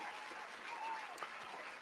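A short stretch of steady applause on a sports podcast, even and fairly faint, with no talking over it.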